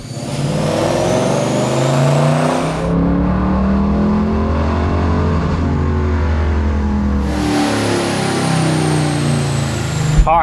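A Fox Body Mustang with a swapped 7.3L Godzilla V8 revs hard on a dyno, its loud engine note climbing and falling in long sweeps as the run holds near full throttle.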